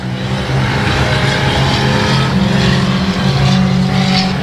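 Race cars roar around the oval at Battleground Speedway, a dense, steady engine drone with layered revving from several cars close together, loud and continuous without a break.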